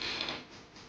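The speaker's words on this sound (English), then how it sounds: "The floor creaks." A wooden floor creaks just outside a bedroom door in a house, a drawn-out, grainy groan that swells and fades over under a second, close and fairly loud with no voices.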